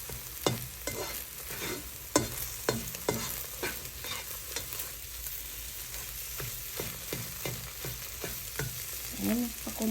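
Eggs being scrambled in a pan at a home family breakfast, a utensil scraping and tapping the pan in irregular strokes over a soft steady sizzle, close and fairly quiet.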